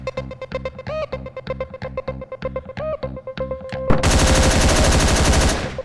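Gunfire from a weapon in the top-down action video game Hotline Miami: a rapid burst of loud shots over a pulsing synth music track, ending in a sustained dense roar of fire.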